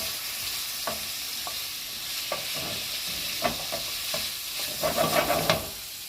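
Ground meat for a bolognese sizzles steadily in a hot pan while being stirred and broken up, with scattered scraping taps of a utensil against the pan and no talking.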